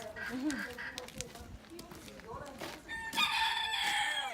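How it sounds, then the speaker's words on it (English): Hens cluck and chatter close by while a rooster lets out a loud, drawn-out crow near the end. "So we've got chickens here too"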